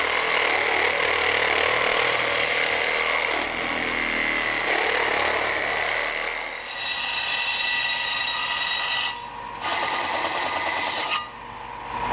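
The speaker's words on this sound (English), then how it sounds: "I've already half done the cut, so I'll just finish it off with the sawzall." A reciprocating saw finishes a part-done cut on a Nissan 240SX part, a loud, steady buzzing rasp that runs continuously with two brief pauses near the end, close up and with no talking.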